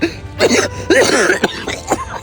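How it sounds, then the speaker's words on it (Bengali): A man coughs hard in a series of harsh, throaty bursts, with short pauses and rough throat clearing between them. Nearby and loud, with no words spoken. "এই কাকা কাশতেছে"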